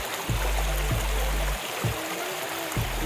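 River water rushes past near hills at a picnic spot, a steady close wash of noise broken by a few dull low thumps, with no one talking.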